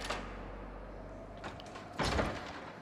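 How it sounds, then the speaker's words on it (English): A door is opened in the video game Until Dawn, heard as a faint slide followed by a soft thud over quiet background ambience. "let's open this stupid door"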